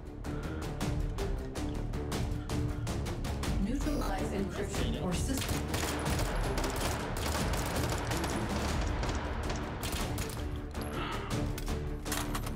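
Rapid bursts of weapon fire in the VR shooter Hot Dogs, Horseshoes & Hand Grenades, Take & Hold mode, dense sharp reports running nearly nonstop over twelve seconds, loud and close, with a player talking over parts of it.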